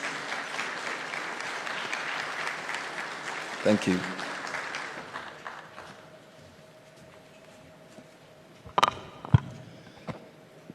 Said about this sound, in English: Please welcome Dr. Ghebreyesus with a resounding round of applause.